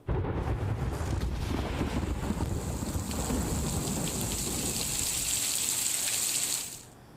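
Heavy rain pours steadily in Tapi district, Gujarat, as a dense, continuous hiss and patter, loud and unbroken, fading at the very end.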